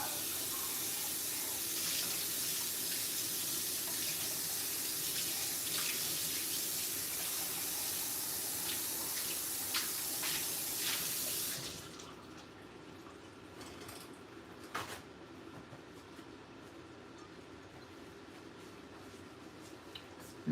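Tap water runs steadily into a kitchen sink for about eleven seconds while cast iron baking is prepared, then shuts off and leaves quiet background with a few small clinks.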